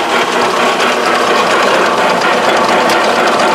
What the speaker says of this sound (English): See, this motor spins in the centric and it makes those rubber tires go in and out